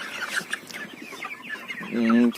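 Dense chatter of many 41-42-day-old chickens clucking close by on a poultry farm, with one louder sustained squawk near the end.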